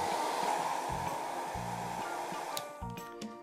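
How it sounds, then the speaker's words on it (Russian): A hair dryer blows steadily at close range over a woven newspaper basket, with a constant airy whoosh and a few soft knocks and shifts as it moves near the end. "И теперь верхний слой мы должны подсушить феном."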